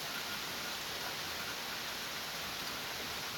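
Rain falls outdoors as a steady, even hiss of broadband noise, unbroken throughout with no distinct drops or voices.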